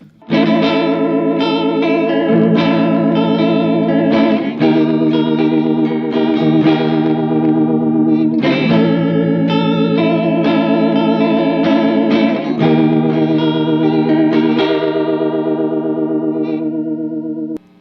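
Shimmering electric guitar chords through an ENO Music Gemini chorus pedal, with a wide, swirling chorus effect, strummed and sustained in several sweeping changes, loud and alone without any voices.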